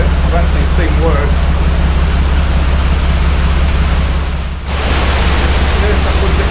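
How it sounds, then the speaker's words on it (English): Water gushes steadily into a leaky canal lock on the Leicester Line of the Grand Union Canal, a loud continuous rushing roar close by, briefly dipping before surging on unchanged. "there's quite a gush of water coming in"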